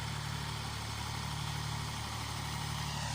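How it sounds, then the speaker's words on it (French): A tractor engine idles low and steady with a constant deep hum and mechanical drone, on an olive grove slope just before trying to climb; no talk is heard. "on va essayer de monter, mais c'est penché avec le tracteur"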